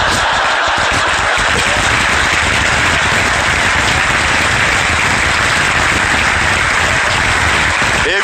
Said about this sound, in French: Et vous applaudissez parce qu'on le sait tous ici.